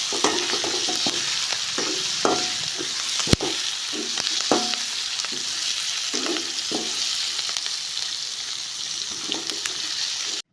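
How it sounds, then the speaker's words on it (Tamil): Drumsticks sautéed in a pan for mango drumstick sambar, a constant loud sizzle with repeated scraping stirs and clinks against the pan, close up and without speech. "முருங்கைக்காயும் ஒரு 2 நிமிஷம் 3 நிமிஷம் நல்லா வதக்கணும்"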